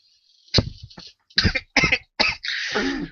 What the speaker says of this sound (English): I hope it just didn't ruin that with my cough